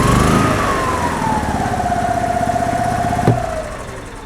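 The gas engine of a 2005 Club Car Precedent golf cart with an intermittent-start fault runs steadily and fairly loud, its tone rising and settling into a constant hum, with a brief clunk near the end.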